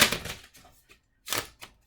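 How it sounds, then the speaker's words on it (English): A deck of playing cards is shuffled close by in short bursts of rapid riffling clicks separated by brief pauses, quiet and with no talking. "I am shuffling them"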